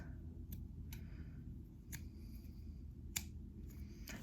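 Small scissors snip thread while darning pointe shoes, giving several sharp, close clicks spaced unevenly over a quiet room hum, with no talk.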